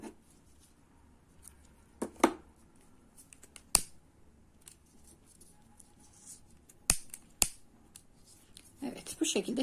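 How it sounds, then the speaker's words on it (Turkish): Scissors snip crochet yarn in a quiet room: a few sharp, isolated clicks spaced seconds apart, faint against soft background handling noise. "Şimdi bir zincir çekip kesiyorum."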